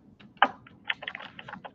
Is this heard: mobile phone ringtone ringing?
no